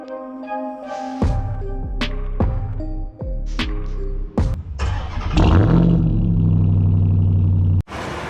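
2025 Ford Expedition Tremor with a 3.5-liter twin-turbo EcoBoost V6, engine droning and revving through several rising gear pulls, close and loud, then a steady cruising hum.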